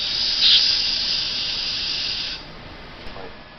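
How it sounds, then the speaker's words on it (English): Compressed air blown in a steady hissing burst over a scanning electron microscope sample, close and fairly loud, lasting about two seconds before cutting off, followed by a faint short puff. "Take the compressed air to ensure that there are no loose fibers or particles"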